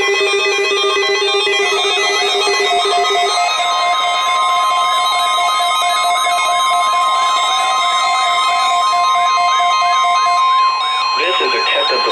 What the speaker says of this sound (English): Weather radio warning alarm for the WNG 698 listening area of north central Ohio.